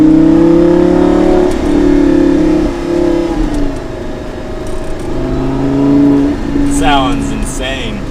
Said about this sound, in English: You can put this window down, which you can then hear the engine a little bit more.